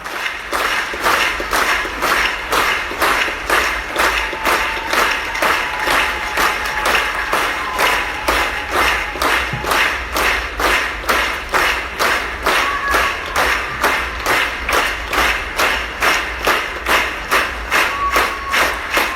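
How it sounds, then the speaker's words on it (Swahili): A church congregation claps together in a steady, unbroken beat of about two to three claps per second. The sound is full and even throughout, with no talking over it. "ongeza makofi kwa Roho Mtakatifu."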